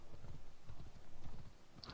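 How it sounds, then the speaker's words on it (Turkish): Horse hooves clip-clop in a steady galloping rhythm while riding in Assassin's Creed Odyssey, close and fairly loud, with a faint neigh near the end and no talk. "Cesur atımıza bindik. Gidiyoruz evlat."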